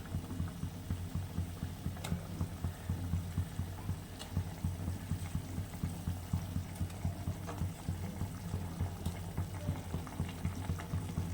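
Low, steady bubbling of a chela fish curry with mustard paste simmering in a pan, a continuous soft rumble with faint pops and occasional small clicks, no talking.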